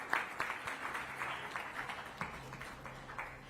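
Steady applause from an audience at a health awards ceremony, many hands clapping in a continuous patter at moderate volume, with a faint low hum underneath and no talking.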